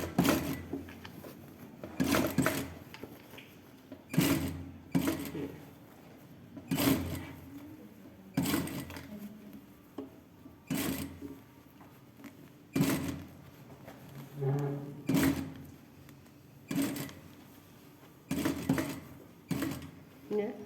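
A domestic sewing machine stitches a seam on a blouse in short, repeated bursts, each run of stitching separated by pauses, close by, with someone talking at times between the runs.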